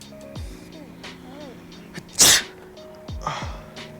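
A single sharp, loud sneeze bursts out in a quiet library, standing alone amid faint background rustles and soft distant sounds.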